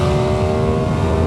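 An Aprilia Tuono 660 motorcycle engine on a test ride, a steady loud mid-pitched drone held at constant revs with rushing wind noise over it, close and continuous for the whole moment.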